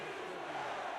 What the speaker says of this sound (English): Crowd on their feet here in Jacksonville